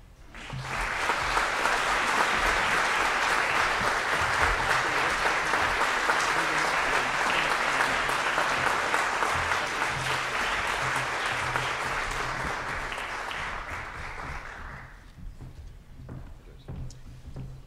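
A debate audience for Ohio's 7th Congressional District applauds candidates walking on stage, a dense, loud, sustained clapping that carries on for about fourteen seconds before fading into quieter room noise.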